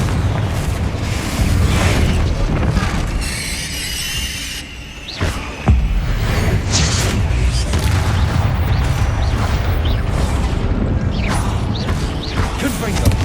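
Confringo fire spell blasts in Hogwarts Legacy gameplay: loud booming explosions with creaking, mechanical rumble, repeated over and over in a dense, continuous barrage with one brief lull partway through.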